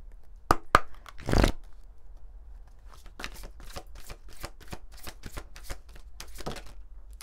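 Oracle cards are shuffled close up, a few sharp snaps and a riffle followed by a quick series of crisp flicking taps as cards are handled and drawn, with no talking.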